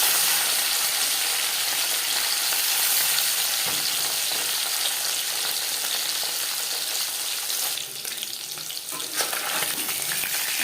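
Marinated bata fish fries in hot refined oil in a pan, giving a loud, continuous sizzle and crackle throughout, with a brief softer dip near the end.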